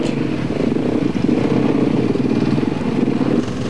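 A tracked vehicle's Mercedes six-cylinder turbo engine rumbles continuously at close range, a loud, steady motor drone with a faint rattle mixed in.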